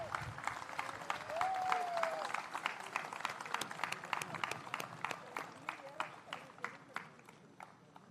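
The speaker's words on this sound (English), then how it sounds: "Please give a loud round of applause for the PGP2s who after their classes are coming here." An audience at an inauguration and awards ceremony applauds the PGP2 students with sustained clapping and some crowd movement, while a voice and a short tonal whine sit underneath before the clapping thins toward the end.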